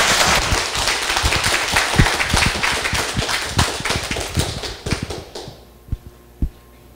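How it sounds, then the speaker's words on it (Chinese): An audience in a lecture class on Taiwanese history applauds to welcome a lecturer: brisk, fairly close clapping that thins out and fades to a few last isolated claps. "请掌声欢迎"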